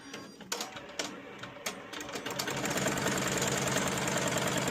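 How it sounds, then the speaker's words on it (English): A Melco EMT16X embroidery machine stitches a tack-down pass to hold puff foam in place, first with separate sharp mechanical knocks, then settling into a steady, rapid, close-up stitching rattle. "So right now it's just laying the tack down stitch so that the foam doesn't move."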